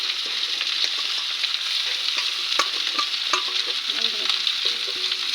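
Leafy greens are stirred and fried in a pan with mustard oil, potatoes and chilli, giving a continuous close sizzle broken by irregular scraping and stirring clatters.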